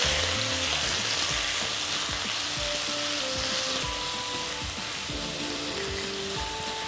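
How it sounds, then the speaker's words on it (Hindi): Chicken sizzles and fries in a pot for Lucknowi Awadhi biryani, a loud continuous crackle with scraping stir strokes throughout, close and without voices. "अब चिकन के साथ इसको एक 4 से 5 मिनट थोड़ा कुक होने देंगे और इसको मिक्स कर लेंगे बराबर"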